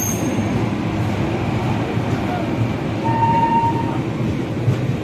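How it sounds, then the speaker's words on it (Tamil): Prashanti Express passenger train running past on the opposite track, a steady loud rumble of wheels and carriages throughout with a brief faint squeal. "ஆப்போசிட் பிரசாந்தி எக்ஸ்பிரஸ் இது."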